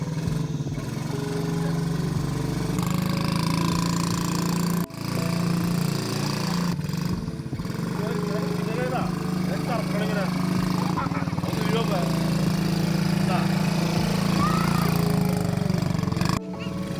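Small ATV engine running steadily with a droning hum throughout a farm stay ride at Memories Inn, loud and close, with people talking over it and one brief dip midway.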